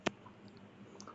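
A computer mouse gives one sharp, close click near the start, then only faint room noise and a couple of soft ticks follow.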